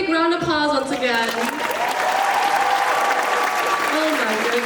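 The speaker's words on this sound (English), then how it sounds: "please give them all one big round of applause once again" Audience applause for the contestants at the Phở King 2022 show, a sustained loud crowd clapping under an announcer's voice and cheering.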